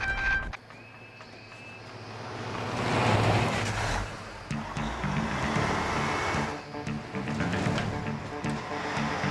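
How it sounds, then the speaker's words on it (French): Military truck approaching in an animated cartoon, a rumbling engine swelling louder toward the middle then easing, with steady road and wind noise throughout and no voices. "Qu'est-ce que c'est? Un camion militaire!"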